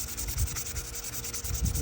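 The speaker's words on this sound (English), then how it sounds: "just gently start sanding" Fine 400-grit sandpaper rubs back and forth on a vintage Kent NY City knife blade in quick, regular strokes, a close, soft, rhythmic scratching.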